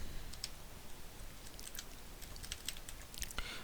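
Faint, scattered keystroke clicks come from a computer keyboard as code is typed, a few light taps spread irregularly over a few seconds against a low background hiss.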